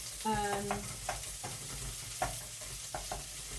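Onions fry and sizzle steadily in a pan while being stirred, with a continuous hiss broken by occasional scraping clicks, fairly close and alone without talk.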